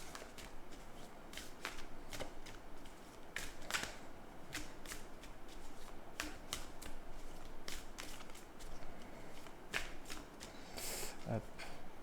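A deck of oracle cards is shuffled over and over, giving crisp riffling bursts and soft slaps in an uneven rhythm, close and fairly quiet, with occasional speech.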